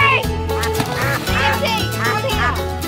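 A pet duck at a cattle station quacks loudly and repeatedly in close, overlapping bursts, over steady background noise.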